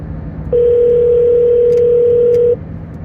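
A single long, steady telephone tone sounds loudly and alone for about two seconds, with two faint clicks near its end, as a call is placed to a guest on a radio talk show.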